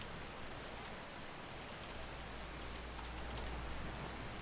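Steady rain in the video game Skyrim keeps up a soft, even hiss for the whole stretch, faint and continuous, with no voices over it.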